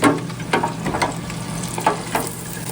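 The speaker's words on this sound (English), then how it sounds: "Hear the sizzle." Fresh crappie fillets sizzle and crackle in hot frying oil, a steady close-up hiss broken by irregular pops and spatters.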